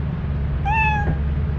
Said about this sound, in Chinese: 猫咪耶！